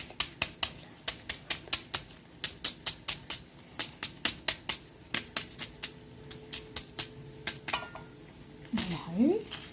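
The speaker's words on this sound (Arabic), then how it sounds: "يلا نقطع البصل بقى مع بعض كده اهو" Knife chopping onions on a board in a home kitchen, a fast steady run of sharp close taps in bursts with short pauses, ending in a brief scrape and a faint vocal sound.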